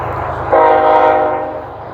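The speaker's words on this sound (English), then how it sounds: "just gonna wait for the train to pass." A train passes close by and sounds a loud, sustained horn blast that swells for about a second and then fades over the rumble of the rail cars.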